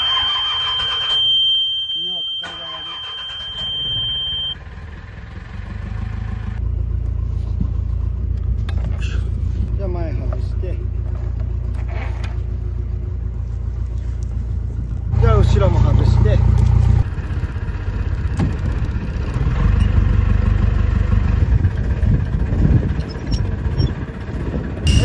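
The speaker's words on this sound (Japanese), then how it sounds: "じゃあエンジンつけて" A small fishing boat's engine starts and settles into a steady, loud low rumble, surging harder for a couple of seconds before dropping back to a running idle while people talk nearby.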